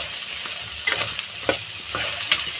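Okra (lady finger) frying in oil in a pan for a gojju, crackling sizzle punctuated by repeated scraping stirs and sharp spatula clinks, close and lively, no speech.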